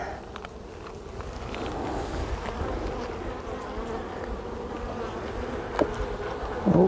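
Continuous close buzzing of honey bees swarming over an open hive during inspection, a dense even drone with a couple of brief clicks near the end.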